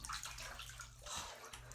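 Bath water sloshes faintly in a tub, a soft, continuous watery swishing with a low rumble underneath, very quiet and close with no talking.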